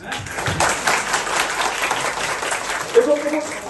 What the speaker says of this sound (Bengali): এটার জন্য আরো জোরে তালি হোক।